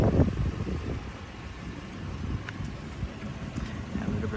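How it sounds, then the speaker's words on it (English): A 1997 Toyota Celsior with a 4.0L V8 1UZFE engine idles steadily just after starting, a low, continuous rumble with faint wind and handling noise, no talk. "I start the engine."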